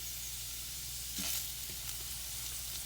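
Potatoes fry in oil in a pan, producing a soft, steady sizzle with a brief stir or scrape in the middle, fairly quiet and close.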